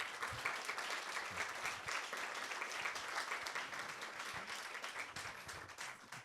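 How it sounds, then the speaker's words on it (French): An audience applauds Teddy Riner at an evening webinar event, a steady round of clapping that holds for about six seconds with faint voices underneath. "on peut applaudir Teddy Riner"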